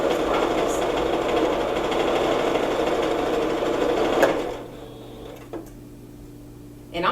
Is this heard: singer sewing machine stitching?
yes